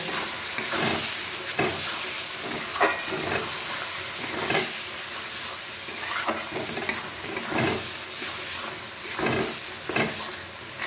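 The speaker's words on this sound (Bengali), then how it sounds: "এবার মশলাগুলো খুব ভালো করে আমি কষিয়ে নেব।" Spices with tomato, green chili and Kashmiri red chili powder fry and get stirred for a mutton curry, a steady close sizzle broken by repeated scraping stirs, with no talking.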